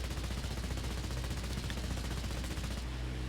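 Dense, continuous rapid-fire aircraft machine gun bursts from a Polikarpov I-16 in the video game War Thunder rattle throughout at steady loudness, with a low engine-like drone underneath that steadies toward the end.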